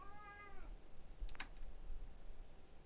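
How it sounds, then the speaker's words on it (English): A pet cat meows once, a short rising-falling call near the start, fairly close but soft, followed by a brief clatter and quiet room tone with no talk. "she's meowing because she hears someone walking around upstairs"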